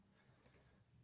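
Two quick keystrokes click on a computer keyboard in close succession, sharp and near against a quiet room background, with no talk.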